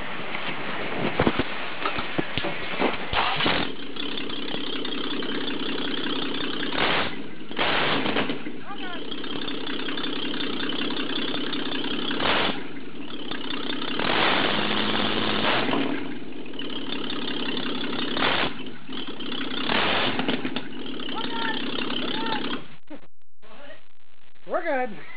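A 1966 Ford Mustang inline-six with no exhaust system idles loudly and roughly close by, a raw, steady open-header rumble with occasional revs and popping, while people talk over it, before cutting off near the end.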